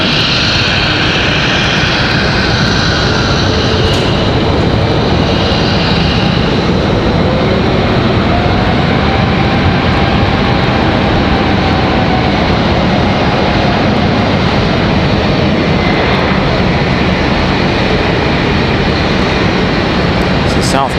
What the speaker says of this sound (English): Frontier touching down.